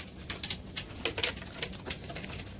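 Big kaldoma pigeons from Allahabad and Benares cooing close by, a string of soft, uneven coos and muffled rustles repeating over a quiet background.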